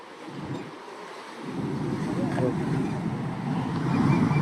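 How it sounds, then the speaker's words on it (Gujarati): Fast water rushes along a canal beside a parked car, giving a broad, continuous outdoor roar that swells after a quieter start, with wind buffeting the microphone. "અહીંથી પાણી આવે છે જો કેનાલમાં"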